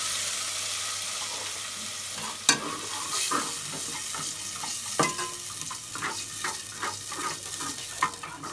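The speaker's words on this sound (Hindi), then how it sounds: "ये देखें अच्छी तरीके से इसका मसाला मिक्स होना चाहिए।" Spices are stirred into a fish masala frying in a pan, giving a loud steady sizzle with repeated rhythmic spatula scrapes and a few sharper knocks against the pan.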